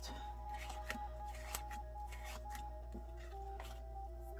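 A tarot deck is shuffled close by in a quiet room, making a rapid series of soft riffling and slapping card sounds over a low steady hum.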